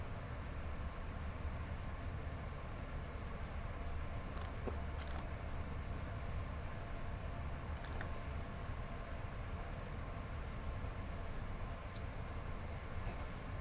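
Class 86 InterCity electric locomotive cruising at speed in a train driving video game, a continuous low rumbling rail drone with faint clicks, quiet and steady with no talk.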